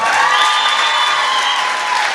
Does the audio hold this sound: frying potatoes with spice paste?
no